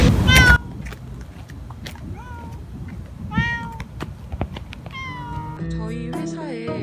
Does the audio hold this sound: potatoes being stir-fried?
no